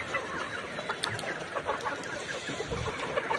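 Several chickens cluck nearby in short, uneven bursts, overlapping softly against a low background murmur.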